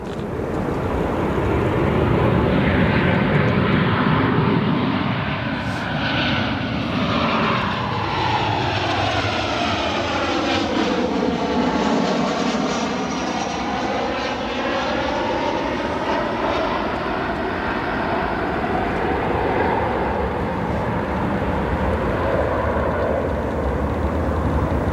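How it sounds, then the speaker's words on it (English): Southwest Airlines Boeing 737 jet departing O'Hare airport, a loud sustained engine roar with a rising and falling whine as the aircraft passes, filling the whole stretch. "Here is your Southwest Airlines 737 from Phoenix."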